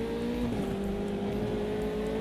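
A race car engine held at maximum revs in a sim racing game, a loud steady high drone with a clear harmonic line that dips slightly once and then holds, running alone without talk.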